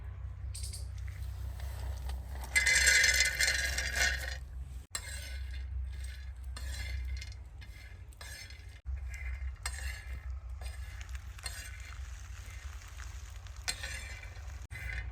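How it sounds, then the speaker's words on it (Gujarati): Peanuts being dry-roasted and stirred in a pan for chikki. The sizzle and scrape are steady and close, with a louder, brighter burst near the start, and faint talk underneath. "હવે આપણે સિંગ દાણા શેકી નાખીએ"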